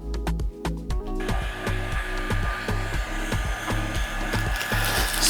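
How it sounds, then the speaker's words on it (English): A heat gun blows steadily while drying paint on custom Nike Air Force One sneakers, a close continuous whooshing drone with a rhythmic pulsing hum underneath, preceded by a few quick clicks; no talk. "I'm going to use my heat gun to dry it a little bit"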